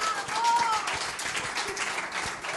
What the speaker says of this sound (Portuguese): ¡Qué público que elige los momentos para aplaudir!